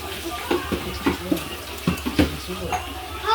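Water runs at a sink while something is washed, with splashing and clattering in uneven bursts close by and people talking over it.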